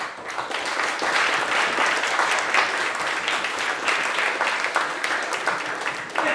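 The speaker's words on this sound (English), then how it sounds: "big round of applause, please" A pub audience at a talk applauds continuously, dense steady clapping that fills the room for several seconds without letting up.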